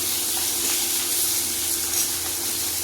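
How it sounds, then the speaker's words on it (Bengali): A fish head fries in hot oil in a pan while dal is cooked, a loud, steady hissing sizzle that stays close and constant throughout with no voices. "মাথাটা ভাজা হয়ে মাছের মাথাটা ভাজা হয়ে গেছে"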